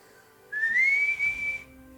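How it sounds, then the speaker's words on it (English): A single clear, sustained whistle rising slightly in pitch and then holding steady for about a second, loud and close against a quiet background with no talking. "She then whistles,"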